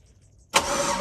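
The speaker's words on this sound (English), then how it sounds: "if I give these things power to the battery, right, my starter will turn over" A starter cranking a Chevy LS LQ9 engine fitted in a Jeep CJ7, bursting in abruptly after near silence as a loud, close, continuous whirring turnover.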